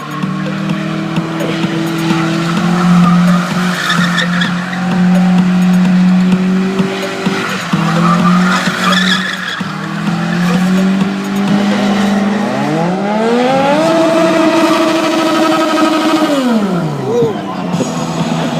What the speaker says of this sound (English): Bring the car in now.